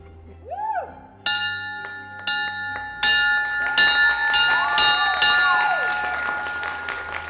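A hand bell rung by a patient marking the end of radiation treatment for glioblastoma, several bright clanging strokes in a row that build in loudness, followed by a crowd applauding and cheering around it.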